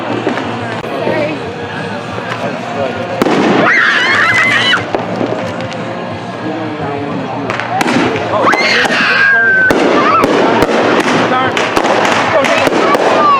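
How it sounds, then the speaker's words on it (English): Firework mortars and firecrackers going off in a suburban neighbourhood, a continuous barrage of sharp cracks, pops and bursts, some near and some distant, with people shouting and talking throughout. "I just be hearing these motherfucking mortars go off"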